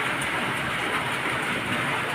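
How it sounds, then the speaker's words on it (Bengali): Heavy night rain pours down in a steady, dense wash of hiss that stays even and unbroken from start to finish, with no voices. "রাতে শুরু হয়ে গেছে বৃষ্টি জোরে"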